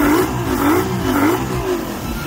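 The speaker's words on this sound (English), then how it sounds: "you see the engine sounds really good now" A small Mercury outboard engine, freshly decarbonized with Sea Foam, runs loud and close, its pitch rising and falling in a slow, wavering rhythm.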